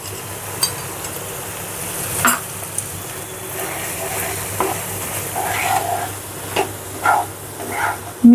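Milk powder stirred into chhana in a pan over a low flame while making kalakand: soft scraping and occasional light clinks of a spoon against the pan, quiet and intermittent, with no voices.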